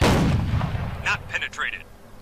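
A heavy tank cannon blast from a Jagdpanzer 8.8 gun in the video game Ground War: Tanks booms at the start and rumbles away, followed by faint metallic clinks and a short voice.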